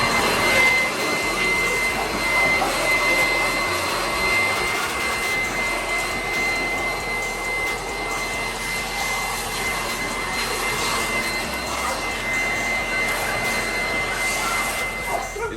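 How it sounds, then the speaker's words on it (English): Blower clearing debris out of outdoor dog kennels before pressure washing, a loud continuous jet-like roar holding steady throughout, with some talk faintly underneath. "I like to blow and knock a lot of the debris out of here before I start pressure washing and everything"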